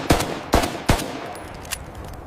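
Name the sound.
gunfire from guns being fired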